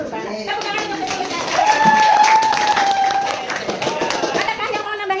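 A classroom of students claps together in a steady, fairly loud burst of applause lasting several seconds, with a few voices mixed into the clapping.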